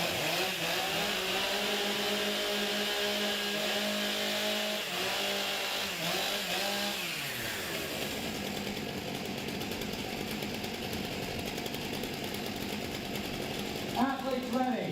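Stock chainsaws cutting timber at a STIHL Timbersports competition, a loud continuous engine whine under announcer talk, dropping in pitch about halfway through as the cut bites.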